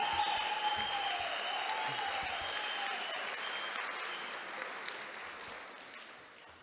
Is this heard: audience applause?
yes